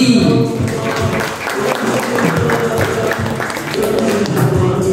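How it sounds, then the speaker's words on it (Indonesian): School audience applauding a homeroom teacher at a school program briefing, a dense, loud wash of clapping from a crowd that swells and continues throughout, with some voices mixed in. "tepuk tangan untuk Mr. G."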